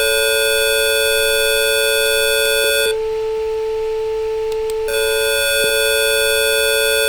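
Synthesized A note tone, distorted by aliasing, sounds as a loud, steady electronic buzz rich in harmonics. It cuts out for about two seconds midway, then resumes unchanged.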